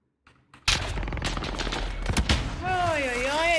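A sniper rifle shot in the video game Warzone Pacific on the Caldera map: a sharp, loud crack followed by sustained in-game noise, then a rising and falling tonal effect at the end.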